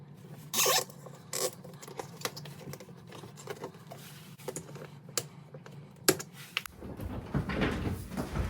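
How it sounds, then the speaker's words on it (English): A new plastic zip tie is fastened around an electrical wire during a Samsung dishwasher repair, giving a series of close, dry ratcheting clicks and sharp ticks, with a rougher rustle near the end. "I'm gonna install a new zip tie to hold the electrical wire in place."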